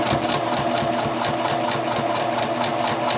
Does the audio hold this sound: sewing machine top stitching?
yes